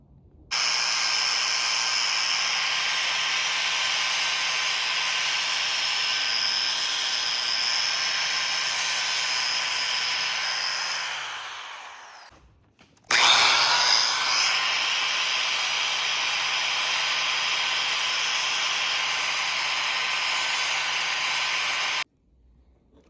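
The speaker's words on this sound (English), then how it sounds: "I'm gonna try to use this flap wheel on a grinder. See if I can kind of mimic this shape here." An angle grinder with a flap wheel shapes a brake pad for a Brembo kit, producing a loud, steady high whine that grinds on for about twelve seconds, winds down, then starts again for a second long pass before cutting off.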